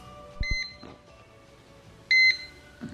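Two short pairs of electronic beeps from a bread machine signaling it is done, close and clear, separated by a quiet pause with faint background clatter.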